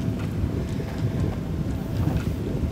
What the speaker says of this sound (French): il y a énormément de vent. Je pense que vous pouvez l'entendre.